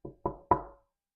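Three distinct knocks on a chamber door, evenly spaced and fairly close, each a short hollow thud with a brief decay, followed by silence.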